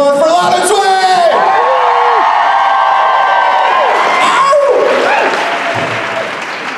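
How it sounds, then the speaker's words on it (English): A Las Vegas show crowd applauds loudly, with cheers, whoops and high shouts rising over the clapping, and the noise eases slightly toward the end. "And please give another warm round of applause for Lana Sway!"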